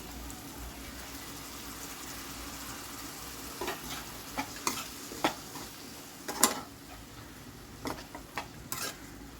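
A spoon scraping through cooked beans and spiced vegetables with turmeric and cumin-coriander powder in a pan, a soft sizzle underneath and several distinct clinks and scrapes against the metal in irregular bursts.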